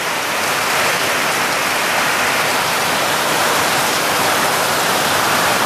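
Heavy rain in Jamaica pours in a steady, dense, loud wash with no let-up, like rain drumming evenly on surfaces all around.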